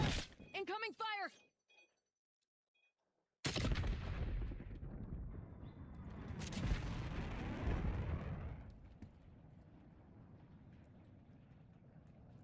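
Incoming artillery in Black Ops 7 lands as a sudden heavy blast, then a long rumbling roll of explosions and fire that fades into lower debris noise, with a brief spoken line at the start.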